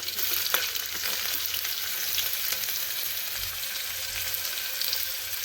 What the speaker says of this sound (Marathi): आता आपण कांदा घालून घेऊया